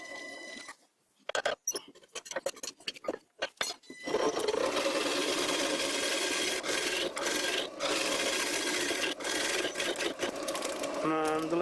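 Wood lathe turning a bowl with a homemade bowl gouge, first a few scattered taps and scrapes, then a continuous loud rasping, hissing cut that holds steady for about seven seconds with brief dips.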